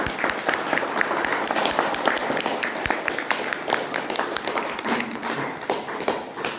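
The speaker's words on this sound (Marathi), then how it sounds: "जरा टाळ्या वाजवा जरा सगळ्यांनी." An audience at a reunion gathering at a resort claps together in sustained, even applause, dense and fairly near, with no clear speech over it.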